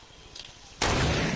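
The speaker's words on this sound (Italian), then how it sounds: "l'ho preso con la nuova pistola" Gunfire from a new pistol in a multiplayer shooter video game, a loud sudden burst of shots that starts partway through and continues to the end, sharp and close.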